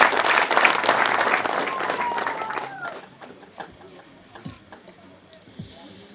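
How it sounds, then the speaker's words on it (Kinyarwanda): A crowd at a gathering in Bugesera, Rwanda, bursts into loud, dense clapping. It thins out after about three seconds into scattered claps and faint background murmur. "Reka dukomere Imana yacu amashyi."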